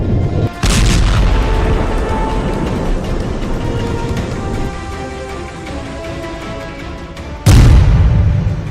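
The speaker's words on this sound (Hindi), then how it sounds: "धमाके का तीसरा वीडियो" Two loud, sharp explosions in Tartus, Syria, one near the start and one near the end, with a rumbling, echoing roar sustained between them.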